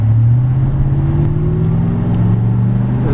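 A supercharged 2007 Ford F-150 Harley-Davidson Edition pickup's engine drones loudly and steadily, its low exhaust tone rising slightly in pitch as it accelerates. No voices.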